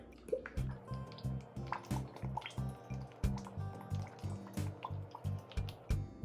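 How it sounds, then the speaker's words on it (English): Hot sauce glugs from a bottle into a bowl while chicken wings are being sauced, a rapid rhythmic series of wet gulping pulses, close and clear, repeating steadily for several seconds. "Now we're gonna add about an equal amount of our hot sauce"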